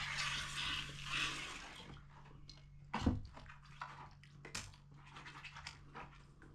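Gold paydirt from Reedy Creek is rinsed with water into a mini cleanup sluice: faint splashing and trickling, with a short louder slosh partway through and a low steady hum underneath.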